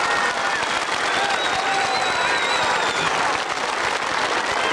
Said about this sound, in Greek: Ένα θερμό χειροκρότημα.